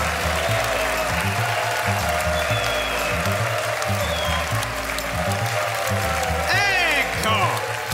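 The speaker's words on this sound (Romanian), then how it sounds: "să o primim cu aplauze puternice în platoul Ai Umor pe Monica Davidescu!" A television studio audience applauds on the set of the Romanian comedy show iUmor, steady clapping running under loud music with a strong rhythmic beat throughout.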